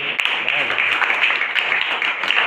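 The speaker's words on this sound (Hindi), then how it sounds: "इनके लिए एक बार ताली बजाइए आप" Children in a classroom clap together in a dense, steady round of applause that carries on throughout, with a voice briefly audible underneath.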